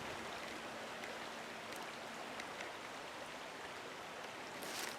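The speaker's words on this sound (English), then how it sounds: "Next, we got the creek right here." Creek water flows in a continuous, even rushing hiss outdoors, steady for the whole stretch with a few faint splashes and no voices.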